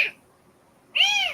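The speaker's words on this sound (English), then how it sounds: "But he constantly meows" A stray newborn kitten gives two high, thin meows, a short cry at the start and a longer, wavering one near the end, close and fairly loud with quiet between.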